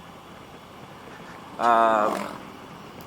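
A motorcycle with a loud exhaust roars past close by, rising abruptly into a brief throaty blast and then fading quickly over a low background rumble.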